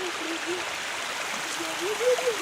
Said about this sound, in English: some tiny waterfalls